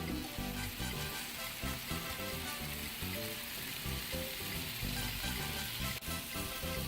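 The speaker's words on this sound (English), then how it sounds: "And you can hear the sizzle" Pork chops frying on a Blackstone flat-top griddle, a steady dense sizzle and crackle that holds loud and even throughout, with no voices over it.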